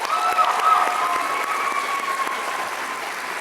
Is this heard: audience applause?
yes